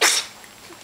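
A single short, breathy sneeze bursts out close by, then trails off into quiet.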